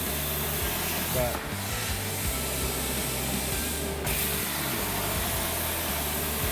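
A Langmuir CrossFire Pro CNC plasma table cuts steadily with a constant hissing, grinding drone and a low hum beneath, broken by a brief shift near the start; a single short spoken word is heard.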